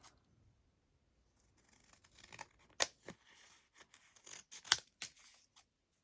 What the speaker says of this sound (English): I can use my big scissors for this part.